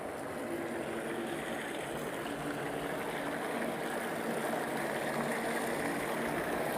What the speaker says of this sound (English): we can see the discharge coming out from here is really tiny